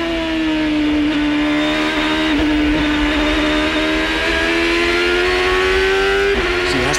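Onboard Champ Car race car at speed around the Burke Lakefront Airport circuit, a loud, sustained high-pitched engine whine that rises and dips slightly with gear changes, with no talk.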